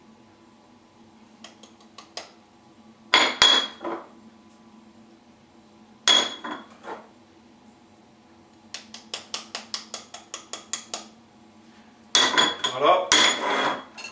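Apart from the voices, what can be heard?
mixing breadcrumb ingredients in a salad bowl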